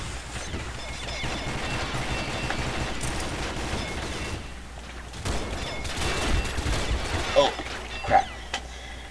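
Gunfire in the online shooter Combat Arms on an oil rig map, a dense stretch of shots and bursts with a couple of louder sharp blasts near the end, under a continuous game din and a talking player.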